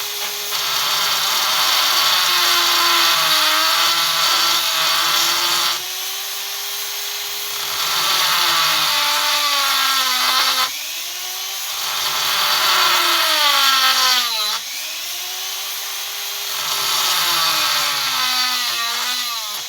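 A chainsaw engine runs continuously at close range during carburetor adjustment, its pitch rising and falling as the revs are repeatedly pushed up and eased back, loud and without talking.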